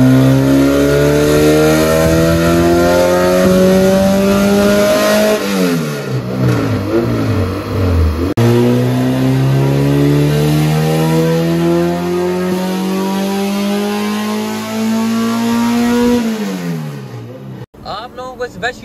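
A Honda K24 all-motor car engine revs hard on a dyno, climbing in long sweeping pulls, dropping back and climbing again, loud and close before cutting off sharply near the end.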